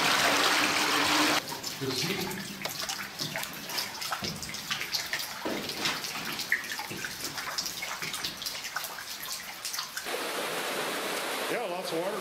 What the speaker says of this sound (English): Yeah, lots of water running out there for sure.